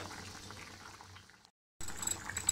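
Potatoes and ridge gourd boil in unsalted water in a pot, giving a steady, dense bubbling that cuts out completely for a moment midway before resuming just as strongly.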